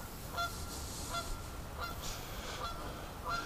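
Canada geese honk repeatedly at a distance, sharp nasal calls rising over a steady outdoor hiss with no voices.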